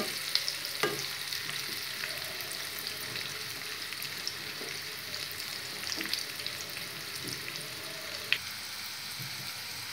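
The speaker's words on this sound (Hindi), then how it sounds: "बस मुझे इसे सेलो फ्राई करना है, इसलिए मैं डीप फ्राई नहीं कर रही हूँ।" Yam pieces shallow-fry in mustard oil, giving a steady soft sizzle with occasional sharper pops and light clicks, continuous and fairly quiet throughout.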